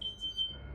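A smoke or fire alarm tone sounds in a quiet room, steady and high-pitched and fairly faint, cutting in and out over a low background rumble.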